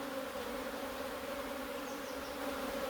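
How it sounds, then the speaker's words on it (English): Honeybees hum steadily around frames lifted during a hive inspection, a continuous close drone with no pauses and no voices. "Shake off any bees"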